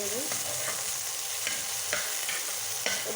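Garlic leaves fry in a little oil in a pan, giving a steady soft sizzle with a few sharp scrapes and taps of a stirring spatula, close but fairly quiet and without talking.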